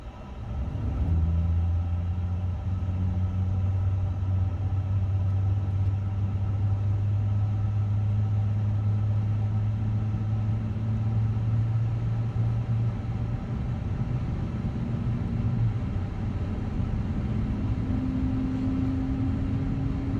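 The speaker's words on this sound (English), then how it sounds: "Engine number 2 now, getting started here." Airbus A350 engine spooling up during a cold and dark start in Microsoft Flight Simulator, a steady low rumble with rising tonal whine that climbs gradually in pitch over twenty seconds, loud and continuous without talk.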